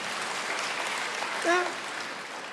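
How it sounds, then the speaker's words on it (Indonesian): A church congregation at an online Kingdom Celebration service applauds for God, steady clapping throughout with a brief vocal exclamation rising above it midway. "Yang mengerti tepuk tangan buat Tuhan."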